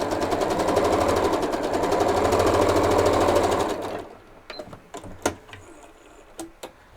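Sewing machine chain piecing quilt half-square triangles, running in a fast steady close stitching hum for about four seconds before stopping, followed by light handling clicks and rustles.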